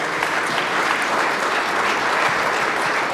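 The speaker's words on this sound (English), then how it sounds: "So if I could ask for a round of applause for our panelists." An audience at a New York City infrastructure panel gives the panelists a round of applause, with dense, loud clapping that holds steady throughout.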